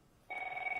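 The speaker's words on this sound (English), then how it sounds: "sorry about the phone ringing." A telephone starts ringing indoors after a brief quiet moment, a steady electronic two-tone ring held at low volume.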